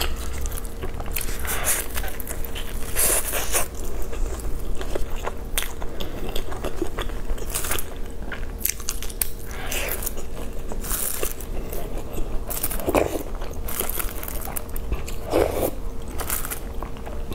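Close-up crunching, biting and wet chewing of spicy pork in a mukbang eating session, loud and continuous with sharp crisp bites scattered throughout and no talk.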